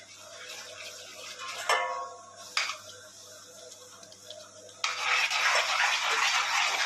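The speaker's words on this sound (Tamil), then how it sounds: "கேப் விடாமல் நல்லா மிக்ஸ் பண்ணிகிட்டே வாங்க" Kesari sweet is stirred in a pan with a metal spoon: a few sharp scrapes and knocks against the pan, then a longer rasping stir. Close by, with no talking.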